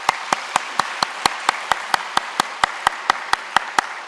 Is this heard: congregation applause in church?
yes